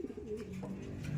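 Young pet pigeons in a loft, a single soft low coo that is quiet and close, heard on its own without any speech.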